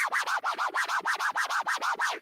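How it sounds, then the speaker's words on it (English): Baby scratch on a DJ turntable: a quick, steady back-and-forth record scrub repeating about eleven times in two seconds, a fairly quiet, whooshing rhythmic wobble heard alone without a beat. "we're just going to cover the baby scratch, the simplest, the easiest scratch"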